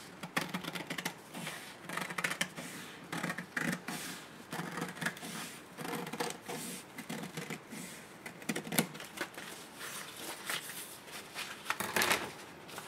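Paper scissors cut flat paper while shaping a circle pattern for a Christmas tree napkin, a rapid, uneven run of crisp snips and rustles close by, continuous for several seconds.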